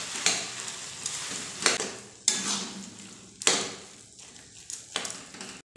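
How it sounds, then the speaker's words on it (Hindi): Potato and tomato paratha filling being stirred in a pan over the flame, with a few sharp scraping clanks of a spoon against the metal pan over a soft, steady sizzle. "अब हम इसे अच्छी तरीके से मिक्स करेंगे।"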